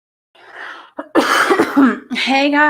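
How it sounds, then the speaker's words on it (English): A person clears their throat with a couple of harsh, close coughs, preceded by a soft breathy rasp, then slips straight into a hummed or sung tone. "I had to clear my throat."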